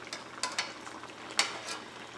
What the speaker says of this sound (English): we're just going to let this cook until the pork is fully cooked and the sauce is thickened to our liking